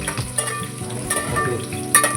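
Whole spices, a piece of cinnamon and two bay leaves frying in hot oil for a chicken rassa, a short steady sizzle with a few stirring scrapes, up close.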